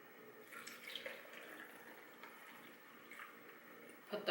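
Milk pours into a Magic Bullet blender cup already holding banana, strawberries and ice cubes, a soft, quiet liquid splash running steadily for a few seconds, ending with a brief louder clatter.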